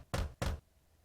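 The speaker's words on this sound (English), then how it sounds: "I hop up the stairs leading to her room and knock on her door." Two firm knocks on a door in the visual novel Katawa Shoujo, close and evenly spaced, followed by quiet.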